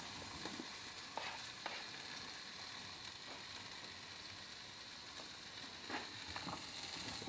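Potatoes sautéing in a pan over a wood-fired stove, giving a steady close sizzle and crackle with occasional scraping stirs.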